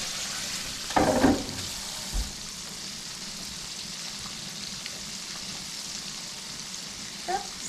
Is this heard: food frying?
yes